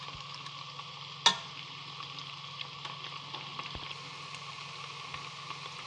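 Ginger garlic paste dropped into hot oil for Punjabi-style kadhi pakora, giving a steady, close sizzle with one sharp clatter near the start and faint stirring scrapes after it.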